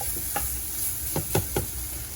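Browned turkey sausage frying in a pan as flour is sprinkled in for gravy, a steady close sizzle with several sharp scraping stir strokes in the second half, no talk.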